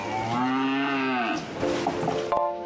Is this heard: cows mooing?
yes